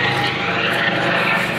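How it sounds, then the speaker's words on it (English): A helicopter passes overhead during an outdoor walk in the woods. Its engine and rotor make a steady, fairly loud drone that holds level for the whole stretch, with no talk over it. "Helicopter."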